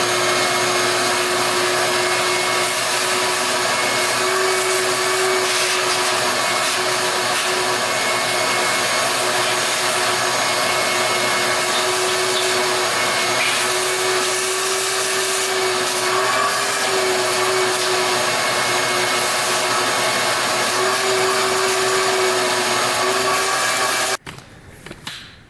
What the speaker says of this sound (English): we're gonna take the vacuum and just vacuum all that crap out of there